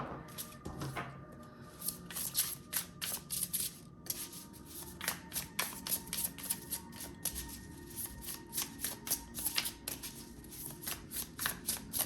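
A Polinaris tarot deck is shuffled by hand, with repeated quick riffling and rubbing bursts of card stock in an irregular rhythm, close and quiet with no talking.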